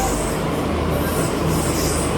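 A Delhi Metro train arriving at the station on the Noida Electronic City to Akshardham route rumbles loudly nearby, a dense continuous roar with faint squealing from the wheels.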